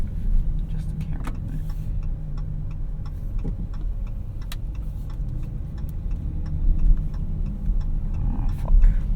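A 2017 Dodge Charger V6 drives with a steady low engine rumble heard from inside the cabin, a ticking indicator clicking over it throughout.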